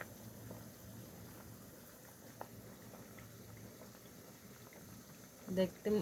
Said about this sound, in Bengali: ভাতগুলো কীভাবে টকবগিয়ে ফুটছে।